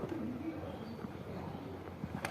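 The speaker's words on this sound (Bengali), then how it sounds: "এই দেখুন পায়রাগুলো সব নেমে গেছে" Pigeons coo softly on a rooftop after landing to feed, a few low, burbling calls that repeat faintly at a distance.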